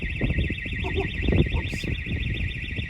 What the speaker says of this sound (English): When your key fob battery goes flat and you go to turn the alarm off in the farm.